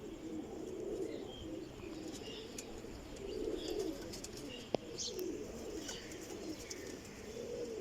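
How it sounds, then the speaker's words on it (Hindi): Black-faced pearl breeder pigeons coo softly in low, throaty bursts, joined by faint chirps and a single sharp click. The sound is quiet and close. "ये काले मुँह वाला आ गया, और ये अली वाले कबूतर के साथ है ये जी मोतियों वाला चूहा कबूतर"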